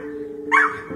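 A dog, one of two raising the alarm for a stricken owner, gives a single short, sharp bark up close over a steady low hum.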